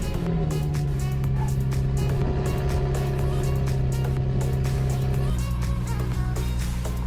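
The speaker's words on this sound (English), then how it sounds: "let's give it a cold start, huh?" An Acura NSX engine idles steadily after a cold start, a loud, close, droning hum with a steady low tone that shifts slightly lower near the end.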